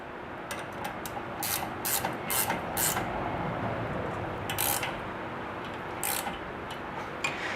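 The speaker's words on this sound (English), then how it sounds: "So I'm going to just snug down these lock nuts." A hand ratchet snugs down nylock lock nuts on the steering of a 1998 Jeep Wrangler TJ, giving clusters of quick, close clicks in several bursts with short pauses, heard alone.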